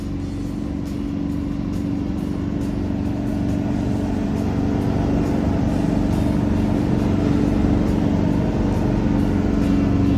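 A vehicle engine holds a steady drone at around 3,000 revs while driving through thick beach sand, loud and close with a slight rise in intensity over the run, and no talk.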